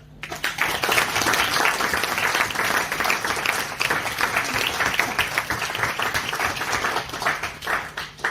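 Wedding guests applaud steadily for about eight seconds at a reception during a best man speech, a dense, even patter of many hands that holds at a fairly constant level.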